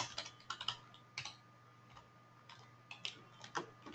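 Keys clatter on a computer keyboard in quick, irregular clusters of close, crisp clicks with brief pauses in between, and nobody speaks.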